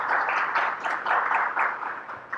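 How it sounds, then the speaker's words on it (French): An audience applauds Dr. Carlo Augustin after a talk on Haiti's constitution, a steady wash of many hands clapping at moderate volume with no speech over it. "je vous prie d'applaudir Dr. Carlo Augustin"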